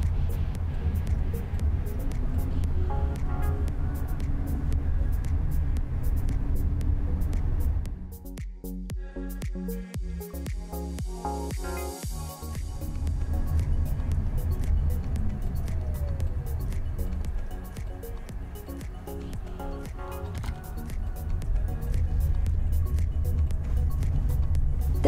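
Waymo driverless Jaguar I-PACE electric car driving through downtown Phoenix while making a left turn, a steady low road rumble and tire noise inside the cabin, briefly quieter mid-turn before the hum returns.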